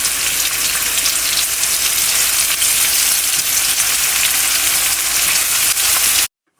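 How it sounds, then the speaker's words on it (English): Salted onions sauté in a pan for mutton liver curry, a loud, steady hiss of frying that cuts off abruptly near the end. "it's been 6 minutes since we have started sauteing the onions"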